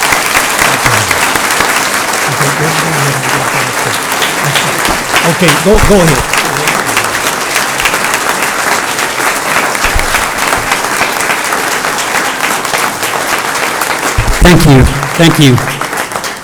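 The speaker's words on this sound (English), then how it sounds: "please give him a round of applause" A board meeting audience applauds steadily to honor a member presented with a remembrance plaque, the clapping loud and sustained throughout, with brief spoken thanks from people at the front over it.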